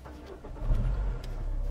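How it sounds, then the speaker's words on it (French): Car engine started for a driving lesson, a brief cranking rumble that catches and swells into a low running hum, close and moderately loud, no voices. "On met le moteur en route."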